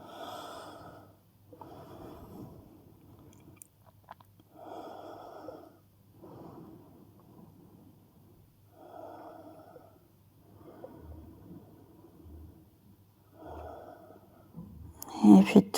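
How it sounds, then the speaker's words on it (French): Slow, deep breaths during a gentle yoga leg-flexibility session, heard close as a regular cycle of long inhales and exhales, with short pauses between each breath. "On a quelques respirations ici."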